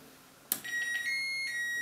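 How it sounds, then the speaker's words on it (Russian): An alarm from a Znatok electronic construction kit, built as a sound-triggered alarm circuit, sets off abruptly with a steady high electronic tone that keeps sounding without talk. "Сигнализация, сработающая на звук."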